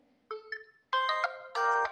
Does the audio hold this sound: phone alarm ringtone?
yes